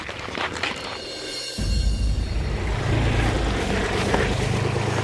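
A tractor engine runs with a loud, steady low rumble that swells abruptly partway through and keeps droning close by.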